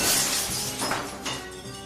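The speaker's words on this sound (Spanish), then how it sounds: "el vidrio terminó por ceder y varios pedazos de este se esparcieron por el suelo" Window glass shatters with a loud crash, then broken pieces scatter and tinkle across a floor, the debris sound trailing off over about two seconds.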